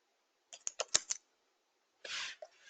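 Quiet clicking on a computer keyboard: a quick run of about five crisp keystrokes, a pause, then a longer rustling press and one final tap, all close and alone.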